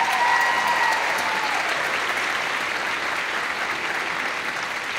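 An audience at a high school choral holiday concert claps steadily, a dense wash of applause that holds throughout and eases slightly toward the end.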